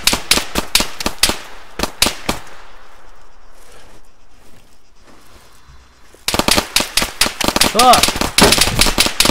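Arma 3 gunfire: bursts of sharp, close popping shots in rapid clusters, a quieter lull with distant reports, then dense loud firing resumes alongside a shouted voice.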